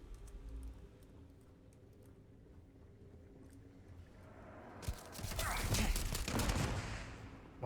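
A burst of gunfire in Starfield, rapid overlapping shots in a loud fusillade that erupts after a long quiet stretch of faint ambient hum, no voices.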